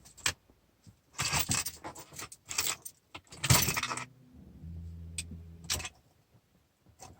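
Car keys jangle and rattle near the ignition of a Saab 9-5 that won't turn over, in several loud bursts of metallic clinking followed by a low dashboard chime or hum toward the end, with no speech.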